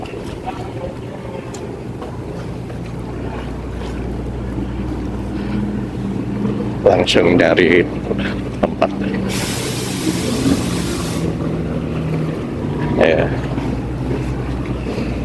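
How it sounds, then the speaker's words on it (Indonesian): A small boat motors across open water near Gili, its steady engine drone mixed with wind buffeting the microphone and water noise, while people speak briefly nearby. "Ini berenaknya pakai perahu kecil."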